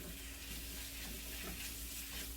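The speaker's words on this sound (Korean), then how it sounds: "이렇게 다짐을 해서 고기를 먼저 이렇게 볶아요" Ground meat, hand-minced rather than machine-ground, stir-frying in sesame oil for Korean rice cake soup, giving a steady close sizzle and crackle with light stirring throughout and no talking.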